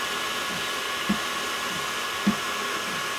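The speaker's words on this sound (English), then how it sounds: "it is a very loud fan and a very loud air pump" TwoTrees TS2-20W laser engraver running its fan and air pump while cutting wood, a loud, steady broadband whir and hiss filling the space, with a couple of faint soft bumps.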